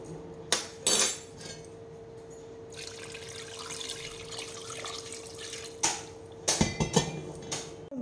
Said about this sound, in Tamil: இப்போ பிரியாணி வட்டை வந்து அடுப்பில் வச்சுக்கலாம்.